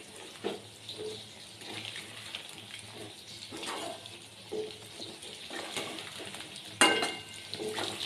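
Chicken pakoras fry in oil over a low flame with a soft, steady sizzle while a utensil stirs them with occasional scrapes and clinks, close by and with no voices.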